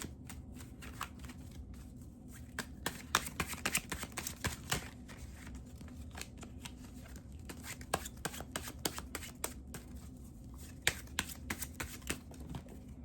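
Tarot cards are shuffled steadily for several seconds, a dense run of crisp riffling clicks and flutters over a low steady room hum, close and fairly quiet, with no voices.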